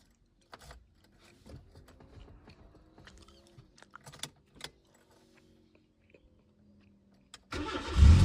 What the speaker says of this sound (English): The car started with no issues.